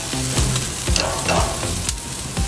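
Garlic wings sear over the hot zone of a grill, making a continuous close sizzle broken by several dull thuds and scrapes as the pieces are moved.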